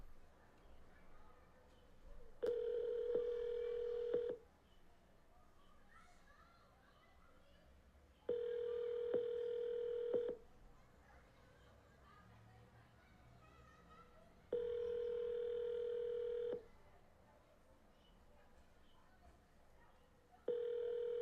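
An unanswered telephone call rings out with four evenly spaced ringback tones, each about two seconds long, separated by quiet gaps with faint background murmur.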